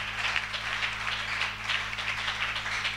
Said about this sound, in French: Acclamons très fort le Seigneur pour cela.